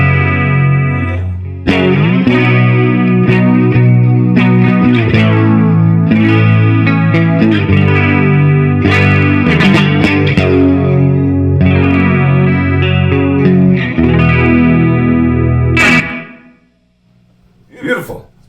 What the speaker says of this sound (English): Throw the Flamma reverb with the Flamma chorus.